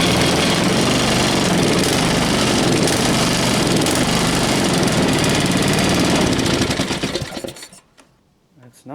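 A rough-running tiller engine pull-started at about half throttle: a loud, steady ragged mechanical rattle fills most of the clip, then sputters and dies away near the end.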